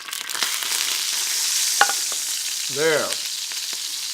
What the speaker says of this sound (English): We can test it by putting a little flour in it. You can hear that.